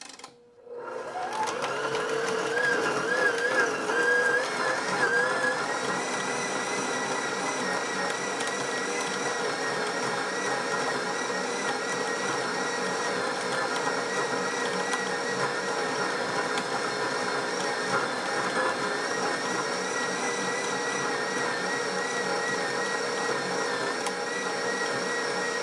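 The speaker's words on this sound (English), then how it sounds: "She's grinding it pretty fine." A KitchenAid grinder attachment grinding corn runs steadily and loudly for the whole stretch, a continuous motor whine with a rough grinding texture after a brief start-up, no voices over it.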